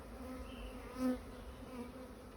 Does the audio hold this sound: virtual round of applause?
no